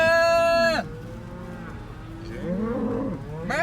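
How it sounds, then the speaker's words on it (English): A cow on a mountain road lets out a loud, close, drawn-out moo, followed by quieter lowing and a second moo starting at the end. "with some friendly cows"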